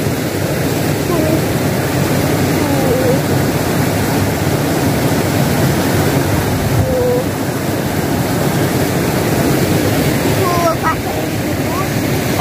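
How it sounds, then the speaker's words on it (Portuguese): A waterfall spills over a reservoir dam in the dry backcountry of Ceará, making a steady, loud, unbroken roar of rushing water that fills the whole stretch without a pause. "essa cachoeira aqui"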